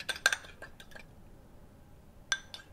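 A small egg with a pinch of salt is beaten in a bowl, giving quick bursts of bright clinks and taps of a utensil against the dish, separated by a quiet pause, close and fairly faint.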